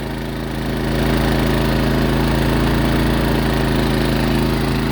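A Predator generator engine runs with a cooling fan in an off-grid RV setup, giving a loud, steady, droning hum with a strong low pulse that swells slightly at the start and then holds constant.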